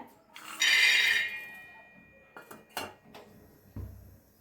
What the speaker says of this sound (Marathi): आता शेंगदाणे आपण पहिलं भाजून घेऊया